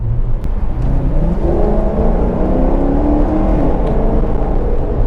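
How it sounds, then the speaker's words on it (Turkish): A Maserati GranTurismo S engine accelerating on a rainy day, a loud, steady, deep engine roar rising in pitch through the gears, heard close from inside with road rumble and no talking. "Şanzıman falan yavaş dedim ama arkadan nasıl attırıyor biliyor musunuz arkadaşlar?"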